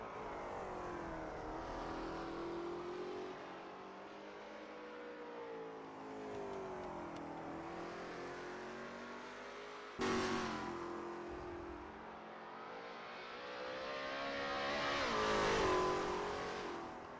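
Lola T70 MkII Spyder race car engines in a racing game at Österreichring, a steady loud drone that rises and falls with revs, cuts abruptly to a new angle at the midpoint, then climbs to a near, peaking pass toward the end.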